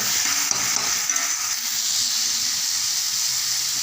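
Ground onion paste sautés in a pan with a dense, steady hiss and sizzle of oil and steam, a few faint stirring taps near the start, close and continuous with no voices.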